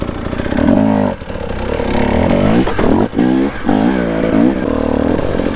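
Enduro motorcycle ridden hard, likely a 300, its loud close engine revving and bogging in repeated surges with brief throttle cuts, as the rider pulls a wheelie through a home yard.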